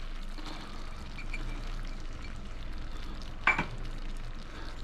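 Parmesan is stirred through a garlic béchamel sauce in a pan over low heat, a steady soft scraping and bubbling with one brief sharper clink partway through.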